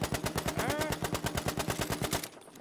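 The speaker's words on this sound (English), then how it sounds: "I wonder if I can empty an entire mag into his torso without laying out the trigger." Automatic gunfire in Battlefield V's practice range, a fast continuous burst of evenly spaced shots emptying a full magazine, loud and close, then cutting off abruptly at the end.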